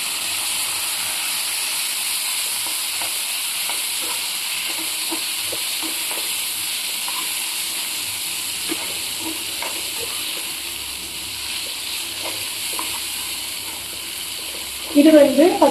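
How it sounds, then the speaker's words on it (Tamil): Chopped tomatoes sautéing in a pan with onion and ginger-garlic paste for a mushroom pepper gravy, giving a steady, even sizzle and hiss throughout, with occasional faint stirring clicks and a brief louder clatter at the end. "இது வந்து பச்சை வாசம் போகிற வரைக்கும் நல்லா வதக்கிக்கோங்க."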